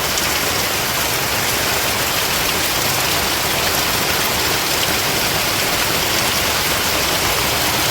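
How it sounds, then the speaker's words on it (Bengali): Heavy rain pours steadily on a Bangladeshi village in the rainy season, a dense, continuous hiss of drops on surfaces with running water, loud and unbroken, with no voices. "এত বৃষ্টি নামছে"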